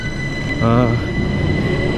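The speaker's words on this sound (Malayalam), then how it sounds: "ഇതാണ് നമ്മൾ വന്ന ട്രെയിൻ കേട്ടോ." A train's steady rumble fills the scene at the Jungfraujoch railway in Switzerland, with a brief tonal squeal of wheels or brakes rising over the background noise.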